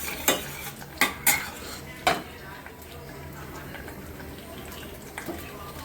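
Almonds are dry-roasted in a pan for traditional jaggery lapshi while a spoon stirs them, giving a few sharp metallic clinks against a faint, steady low sizzle, with quiet speech in the background.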